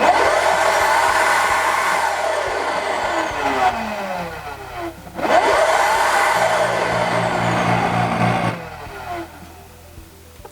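A vacuum forming machine runs loudly with a steady, dense mechanical roar that drops out briefly, surges back with a rising whine, then settles lower near the end, with no talking.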